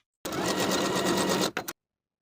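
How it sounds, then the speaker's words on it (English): A sewing machine zigzag-stitches the overlapped short ends of an elastic band together in one steady burst of about a second and a quarter, then gives two quick short pulses before stopping. Close and loud, with no voices. "Overlap the short ends of the elastic slightly and zigzag to attach."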